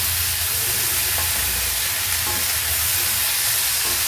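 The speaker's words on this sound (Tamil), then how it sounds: "சேர்ந்துட்டு 2 நல்லா வதக்குங்க." Chilies and onions sauté in a hot pan, a loud continuous sizzle and fry with occasional stirring scrapes, close and steady, no talk.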